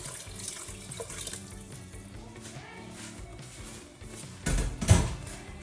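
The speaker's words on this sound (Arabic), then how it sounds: "رح اضيف شوية مي." Water runs into a pot of white beans on a home stove, a steady splashing flow that grows louder toward the end, heard close over a faint background hum.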